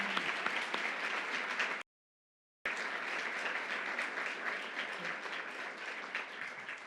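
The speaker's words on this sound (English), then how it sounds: "we need to applaud her again" An audience applauds steadily and fairly loudly at a government announcement event in Troy, a dense continuous patter of many hands that cuts out briefly partway through, then resumes at the same strength.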